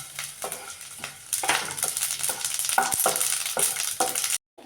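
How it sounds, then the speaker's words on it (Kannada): Dry red chillies and garlic roasting in a pan, with a sizzle and repeated scraping strokes of a spoon stirring, louder after the first second and cutting off abruptly near the end. "ಒಣ ಮೆಣಸಿನ್ಕಾಯಿ ಹುರ್ಕೋಬೇಕು"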